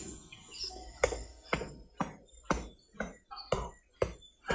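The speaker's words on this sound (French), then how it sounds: "C'est le bruit du marteau du gentilhomme." Hammer knocks as a small room is built, eight sharp, evenly spaced blows ringing out alone and fairly close, each with a short decay before the next strike.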